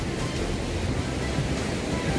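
Ocean surf at Jetis beach in Cilacap, Central Java rolls in as a loud, continuous broadband wash of waves with steady wind-like roar throughout and no voices.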